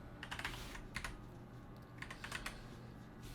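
Someone types code on a computer keyboard, quick soft bursts of key clicks in two short clusters, close and fairly quiet, with no talking.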